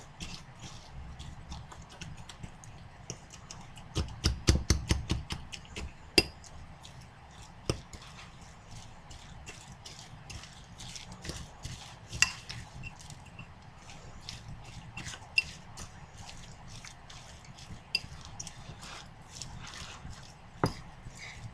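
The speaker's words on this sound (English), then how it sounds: "So I'm going to stir all of that around." A spoon stirs black bean burger mixture in a bowl, giving faint, scattered taps and scrapes, with one busier flurry of quick knocks early on, then sparse clicks spread apart.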